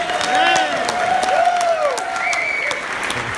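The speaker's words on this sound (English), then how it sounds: "clap very enthusiastically where it's appropriate" Audience applause at a youth travel awards ceremony, a steady dense patter of many hands clapping throughout, fairly loud, with a voice or two faintly mixed in.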